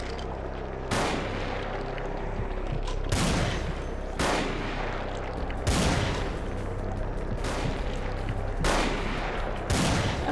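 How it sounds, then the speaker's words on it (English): Weapons firing in the VTMB Final Nights mod of Vampire: The Masquerade – Bloodlines, loud repeated gunshot blasts spaced about a second or two apart, each with a booming tail, continuing throughout. "I could actually unload my weapons on him now"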